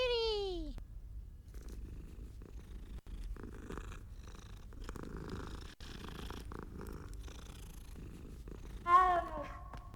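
A cat in the Hogwarts Legacy video game purrs steadily and softly throughout, with a short meow-like cry at the start and another near the end, and no talk over it.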